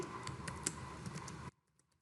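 Quick run of computer keyboard keystrokes entering a bank name, close and crisp with irregular clicks for about a second and a half, then abruptly silent.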